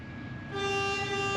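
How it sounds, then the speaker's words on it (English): Car horns honk at a road protest in Argentina: after a half-second of background rumble, a loud, steady horn tone starts and holds without a break to the end. "People are honking their horns."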